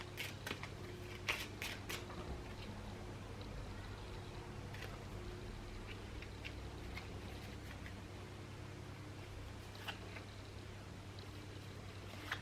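Kipper fortune-telling cards being shuffled for a reading: soft, faint riffling and sliding card sounds in scattered bursts over a steady low hum, with no talking.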